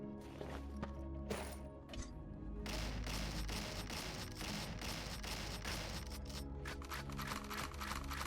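A shotgun firing in the game Dungreed, with dense, rapid blasts of gunfire that run continuously and merge into a loud, busy wash of shots with no talking.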